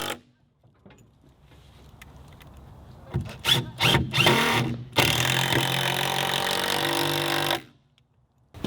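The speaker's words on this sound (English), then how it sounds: "I screwed the 2 halves back together" A power drill drives screws to join two curved plywood concrete form halves. Quiet handling and rubbing come first, then several short whirring bursts, then one longer sustained drilling run before it cuts off.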